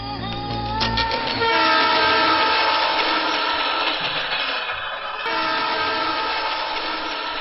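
A train at a railway station rumbles and clatters loudly nearby, its steady roar filling the clip with metallic squeals and no voices.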